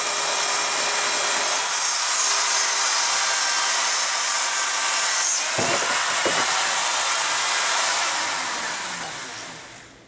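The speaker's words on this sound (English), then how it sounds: "Now, as I cut and trim my brass tubing" Brass tubing being cut and trimmed with a hand tool, a steady rasping, sawing-like scrape that runs continuously and fairly loud, with a couple of brief sharper knocks near the end and no speech.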